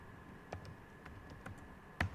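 A few sharp, separate clicks of computer keyboard keys, close and fairly quiet, spaced irregularly in a silent room, with a firmer double tap near the end.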